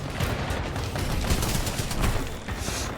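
Spitfire light machine gun firing continuously in the video game Titanfall 2, a dense unbroken stream of loud gunshots with game noise throughout.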